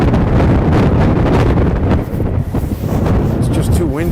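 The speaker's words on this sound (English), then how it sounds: "It's just too windy to even." Strong wind in New York City buffets the microphone in loud, rumbling gusts that ease briefly midway, with a voice faintly audible under the roar.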